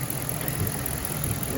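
A Chrysler 300C with a 5.7 engine idles steadily and close, a continuous low rumble with an even, slightly uneven pulse throughout.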